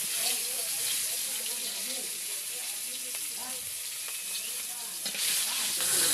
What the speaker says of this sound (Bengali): মাছ ভাজি করলাম